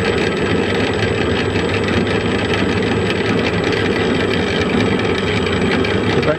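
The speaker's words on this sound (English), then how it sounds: "The back gear pair appears to be running quite nicely like that." Back gear pair of a small lathe running with oil flung around, a steady dense mechanical whirr and hum, continuous and close with no variation or voices.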